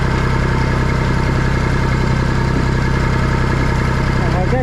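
A tractor engine runs steadily while rolling a field on the side of a steep hill, a loud, continuous low drone with a constant throb that holds unchanged from start to finish.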